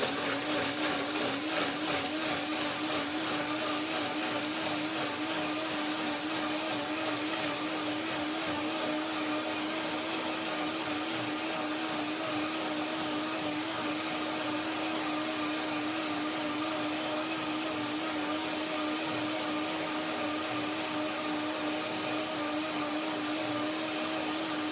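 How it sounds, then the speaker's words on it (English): A blender whirs steadily and loudly for the whole stretch, blending macadamia milk soup with walnut pears, one continuous high-pitched motor drone with no talk. "So quickly now, blender dance."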